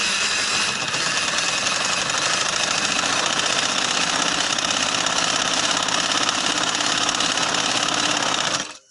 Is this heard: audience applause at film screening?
no